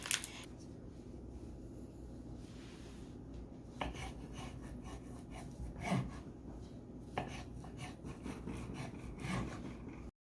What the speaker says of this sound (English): Now I'm just gonna get these cheese franks cut up into little bite-sized pieces